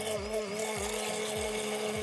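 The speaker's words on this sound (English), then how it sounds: "And I'm gonna use the hand blender." A hand blender runs steadily while mixing a Negroni, giving a continuous motor whine with rhythmic low pulses as the blade churns the liquid, close and fairly loud.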